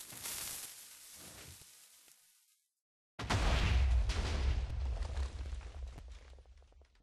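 Minecraft TNT cannon blasts go off in a game, a dense rumbling burst of overlapping explosions after a brief silence, loud and sustained with deep low boom.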